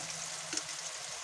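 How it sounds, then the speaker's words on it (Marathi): Homemade masala spice mix frying in a pan for rajma curry, a steady soft sizzle throughout with one brief louder crackle midway, no voices. "मसाला पण आपला परतून घ्यायचा चांगला"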